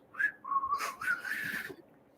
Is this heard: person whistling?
yes